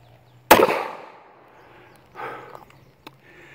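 A single sharp report from an S&W 469 9mm pistol cracks out loud and close, followed by a lighter impact or echo about two seconds later and a small click, over a low steady hum.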